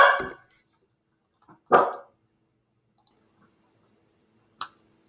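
A dog barks indoors, with two loud barks spaced apart and a shorter, fainter yelp near the end, separated by quiet room tone.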